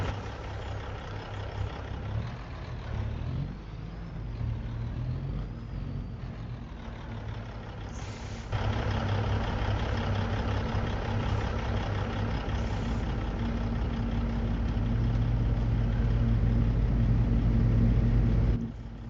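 A construction machine's engine idles with a steady low diesel rumble close by. It grows louder partway through and holds there, with no talking over it.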